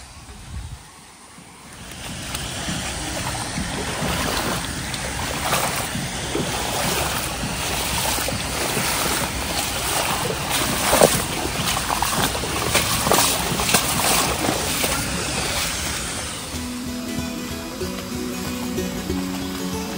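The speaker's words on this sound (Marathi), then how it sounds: "हा इकडचा धबधबा." A waterfall roaring steadily nearby, a broad rushing wash of falling water with wind buffeting the microphone, continuing without voices.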